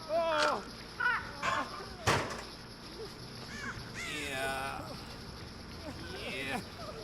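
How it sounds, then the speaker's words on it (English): Several crows caw in short harsh bursts in the video game Dead by Daylight, some close and some farther off, scattered irregularly over a quiet background. "I hear crows"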